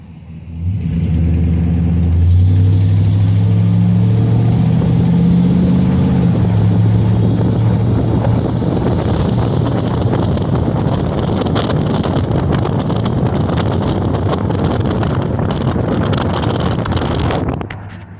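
A 2005 Dodge Ram 1500 pickup truck driving along, a steady loud engine and road drone with heavy wind buffeting on the microphone, rising from a low hum into continuous roaring rush.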